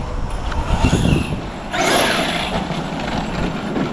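An Arrma Outcast 8S RC car drives and brakes, a buzzing electric motor whine that swells, cuts with a harsh rasp and surges again, close by and without talk.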